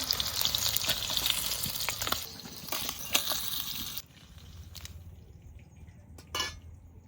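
Snakehead fish lightly frying in a pan in a village kitchen: a dense, steady sizzle for about four seconds, then a quieter crackle with a few sharp clinks of a utensil.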